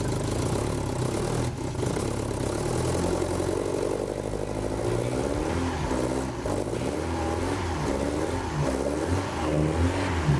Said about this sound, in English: Now, it runs better without getting the choke off.